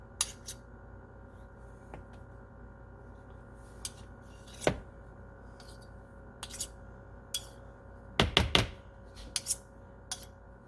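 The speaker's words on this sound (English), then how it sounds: "I want to scrape this off because I'm not getting a good mix on this." Thick s'mores bread batter is scraped and mixed with a spoon against a bowl: a few sparse knocks and scrapes, then a quick cluster of sharp clacks, close but fairly faint over a quiet room hum.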